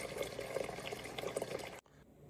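Water runs steadily from a Frigidaire refrigerator's dispenser, flushing through just after a filter change, with a continuous close splashing stream that stops abruptly near the end, leaving a faint hum.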